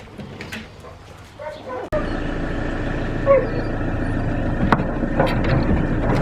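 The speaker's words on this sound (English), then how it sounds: "Excited dogs, eh?" Someone's dogs, Dot and Mick plus a wild young pup, bark and yip excitedly with whimpers mixed in, close and loud over a steady engine rumble from a cramped vehicle, with a voice talking among them.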